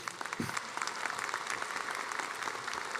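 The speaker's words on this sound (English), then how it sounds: "please give these 3 individuals a warm round of applause along with all the other students." Applause from the audience at a medical college commencement ceremony honoring graduating students, a steady, fairly faint wash of many hands clapping from a distance, continuous throughout with no speech over it.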